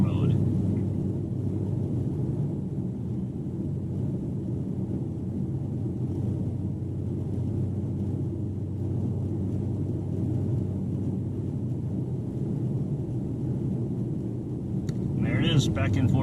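A 2020 Dodge Challenger R/T Scat Pack's 392 Hemi V8 hums with a steady low rumble at light throttle, heard from inside the car, continuous and even throughout, with a brief brighter rise near the end.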